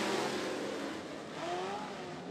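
Race cars accelerating on the green flag at Ponderosa Speedway, a blended engine roar with rising tones as several cars pull away, moderately distant and steady, with no talk.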